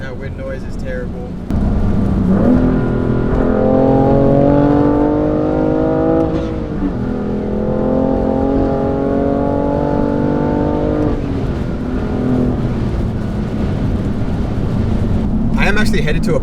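BMW F80 M3 with high-flow downpipes and open exhaust valves pulling hard through two rising engine sweeps, heard from inside the cabin on a wet road with wind noise and a few words spoken at the start and end.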